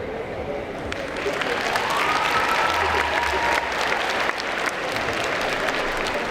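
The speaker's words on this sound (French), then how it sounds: "Vous pouvez encore l'applaudir très très fort." An audience at a cosplay contest during the Bordeaux Geekfest applauds in a continuous, fairly loud wash of clapping, with a voice faintly audible beneath it.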